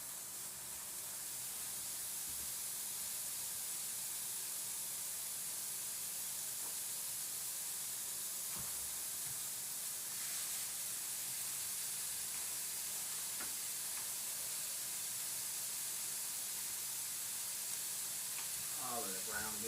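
Ground beef and ground sausage sizzling in a dry skillet, a loud, steady hiss of frying that runs unbroken throughout.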